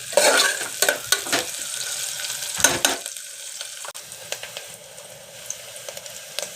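Onions frying in a pan until golden for a simple chicken gravy: a continuous hiss of hot oil broken by repeated clattering stirs and scrapes of a spoon, close and fairly loud.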